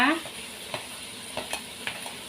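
Pork belly and ginger are stir-fried in a pan under a soft, even sizzle, with several sharp spatula clacks and scrapes spaced through it, fairly quiet and close.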